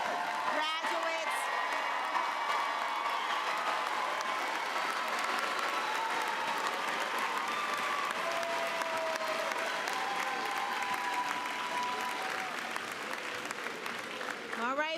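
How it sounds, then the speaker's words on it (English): Graduation ceremony audience for the College of Education and Human Development applauding steadily for bachelor degree graduates, with scattered cheers and whoops across a large hall, sustained at even loudness before thinning slightly near the end. "Let's give a round of applause for our bachelor degree graduates."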